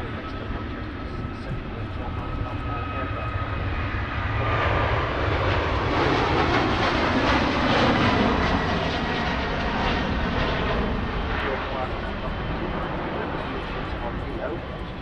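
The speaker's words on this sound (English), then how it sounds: "And off goes a 21 Neo on its way to JFK." An Airbus A321neo takes off from Manchester Airport for JFK, its jet engines building into a sustained loud roar that persists throughout, with someone talking over it.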